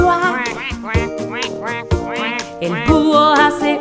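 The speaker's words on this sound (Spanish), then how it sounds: "el pato hace cuac" Cartoon duck quacks sound over a bright children's animal song, a few nasal calls mixed into steady melodic backing music.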